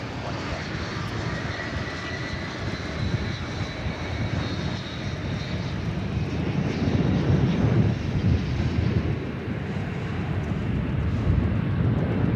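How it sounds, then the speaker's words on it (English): A Spirit Airlines Airbus A319 jet at DFW Airport gives off a steady engine roar with whining tones. The roar grows louder partway through and stays strong to the end, with some wind buffeting. "Spirit Flight 240, bound for Las Vegas, on Airbus A319."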